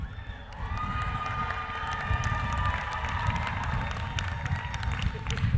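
A graduation audience at a Master of Arts degree ceremony applauds and cheers steadily, a dense wash of clapping and scattered shouts from a large crowd that holds at an even level throughout.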